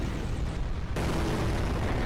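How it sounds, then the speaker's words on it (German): An explosion effect from a skibidi toilet animation roars as a dense, loud, sustained blast of noise that cuts off abruptly, then continues as rumbling, with no speech. "Also die Explosion haben sie ja echt nice gemacht, ne?"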